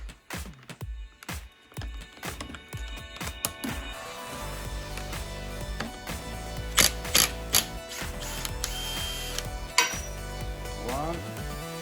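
Metal hand tools clatter and ratchet while removing brake caliper bolts with a 10 mm wrench on a Cherokee XJ front axle, starting with sharp irregular clanks, then a denser run of clicks and metallic knocks, close up, no talk.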